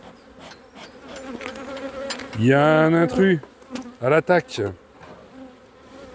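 Honey bees buzz loudly around a hive at an apiary in spring, with sharp, swelling bursts of buzzing from close by and someone speaking French over them.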